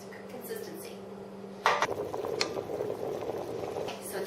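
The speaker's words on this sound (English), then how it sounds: "So it's boiling." Potato soup boiling in a pot, a low bubbling and gurgling simmer heard close by, with a sharp clink of a utensil against the pot and faint talk at the start.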